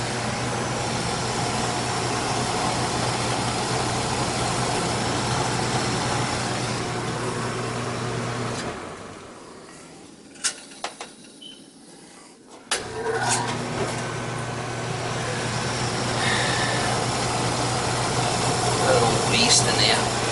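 An old gas furnace's fan motor hums steadily, then stops for a few seconds with a few clicks and clunks before spinning up again into an even drone.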